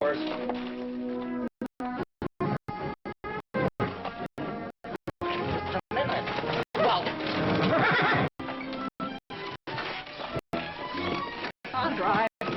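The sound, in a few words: horse neighing and hooves clip-clopping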